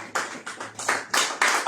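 A church congregation claps during a Sunday service, a quick series of sharp, loud clap bursts in an uneven rhythm, close by and filling the space.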